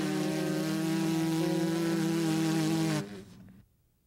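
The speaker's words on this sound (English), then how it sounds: "Without the mouthpiece, blow a steady stream of air between the lips to make a long," Lips buzz a steady stream of air without a mouthpiece, forming a sustained pitched drone for about three seconds that then cuts off into quiet.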